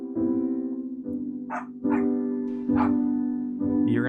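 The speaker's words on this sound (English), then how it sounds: "Because I can hear him barking from the other room." A dog barking from another room in a home, several muffled woofs and yips spaced about a second apart over a steady low background tone.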